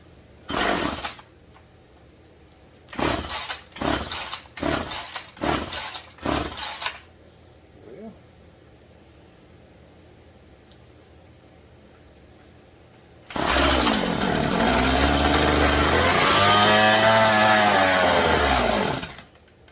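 A Stihl MS171 chainsaw with a freshly swapped carburetor sputters through a short burst, then several quick revving bursts before cutting out; after a quiet pause the engine roars back and runs loud and steady to the end.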